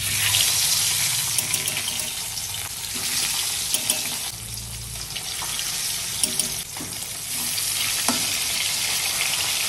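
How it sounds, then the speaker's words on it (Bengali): Fish curry bubbling in a pot, a steady close-up sizzle and bubbling hiss with water-like texture and a few soft clinks, with no talking. "মাছের ঝোল ফুটছে"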